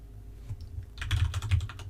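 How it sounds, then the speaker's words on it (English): A password is typed on a computer keyboard, a quick run of close, distinct key clicks that starts after a brief pause and keeps a steady rhythm for about a second, with no talking. "type in our new password"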